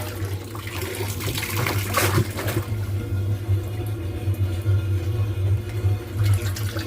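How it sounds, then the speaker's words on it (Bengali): Water spills and pours from a mug in a home, a steady close splashing trickle with a low hum underneath, continuous throughout. "জল নিতে গিয়ে জলটাই পড়ে যাচ্ছে।"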